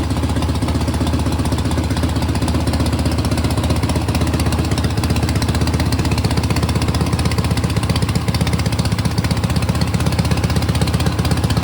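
A Bonneville motorcycle engine runs steadily on a test stand, with a loud, continuous, rapid mechanical chatter and a low throbbing hum, without pauses or talk.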